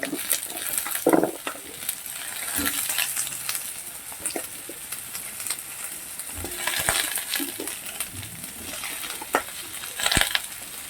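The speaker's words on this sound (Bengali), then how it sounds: "কপিটাকেও ভালো করে ভাজতে হবে নাহলে কাঁচা খাওয়া ওই কপির গন্ধ থাকে" Sliced kohlrabi with beans and green chillies sizzles in a pan, loud and close, with repeated scraping and clinking stirs over the steady frying hiss.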